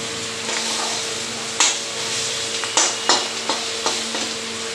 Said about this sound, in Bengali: মশলা প্রায় কষানো হয়ে এসছে।